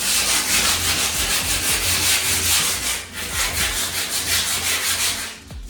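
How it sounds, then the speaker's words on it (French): Close sanding of a plastered ceiling during an apartment renovation makes a loud, continuous abrasive rasping, with rhythmic back-and-forth strokes and a short dip partway through. No voices are heard. "on va juste un petit peu poncer pour voir ce qui tombe encore"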